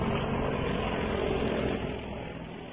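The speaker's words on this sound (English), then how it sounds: "I guess those are military helicopters." Military helicopters flying overhead, a steady loud rotor and engine drone filling the whole clip and easing slightly toward the end, with no talk.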